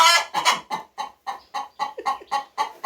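A backyard chicken in a flock clucks close by, about a dozen short, evenly spaced clucks in quick succession with no talk over them.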